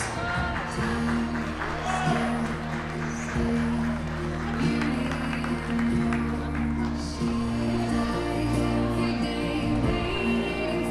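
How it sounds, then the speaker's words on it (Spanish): Guests clap at a wedding reception in Yurécuaro, Michoacán, Mexico. The applause is thick and continuous over sustained band music with held tones, and crowd voices mix in. "¡Les escucho fuerte, fuerte los aplausos!"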